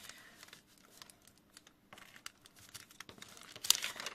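Recycled bakery paper is handled while a pouch is glued together, giving soft crinkling and rustling with a few taps, close and quiet, ending in a brief louder crackle.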